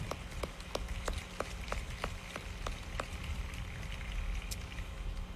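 Faint, sparse hand claps at an introductory press conference, a steady run of separate claps from a small group, heard from a distance with no talking over them.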